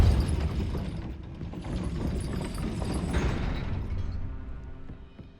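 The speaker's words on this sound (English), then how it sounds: "That looks as if it might raise the gate." Gate-raising mechanism in the Hogwarts Legacy video game, a dense grinding rumble of gears and ratcheting clanks that runs steadily and loud, thinning out toward the end.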